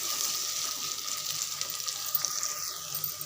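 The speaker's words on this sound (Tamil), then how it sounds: "தக்காளி நல்லா வதங்கிருச்சு." Tomato and onion sautéing in a pan for chicken curry, a steady close sizzle and frying hiss that holds throughout with faint stirring, no talk.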